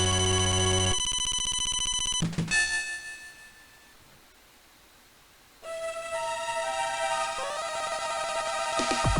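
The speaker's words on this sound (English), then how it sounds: "My phone is blowing up." A phone ringtone plays as a bright, repeating electronic melody, cuts out into near silence for a few seconds, then starts ringing again with the same tonal pattern, clear and without talk.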